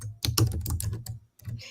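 Quick bursts of keystrokes on a computer keyboard, close and clear, clattering in an uneven rhythm with a short pause near the end.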